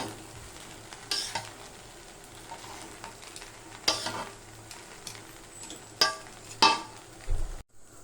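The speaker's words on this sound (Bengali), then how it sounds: "ভালো করে এখন নাড়াচাড়া করব।" Rice mixed with a little tomato sauce is stirred in a pan over a quiet, low sizzle, with scattered scraping and tapping knocks from the spoon that come louder near the end; no one speaks.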